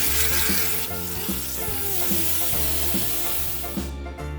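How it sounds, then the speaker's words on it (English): Water runs steadily and loudly while a 75 gallon glass aquarium is rinsed out after scraping, a constant close rushing hiss with no voices, cutting off near the end. "Now we rinse."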